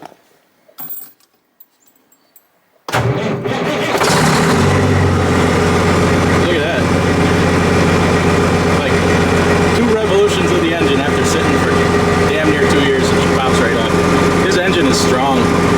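A 1999 Freightliner Classic truck with a worn Super 10 transmission cranks briefly, fires and settles into a loud, steady diesel idle with a deep rumble that continues unbroken to the end.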